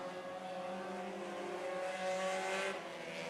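4-cylinder race cars on the final lap of a feature race at a short oval track, engines droning steadily as the pack passes, with a rising pitch near the end and no voices.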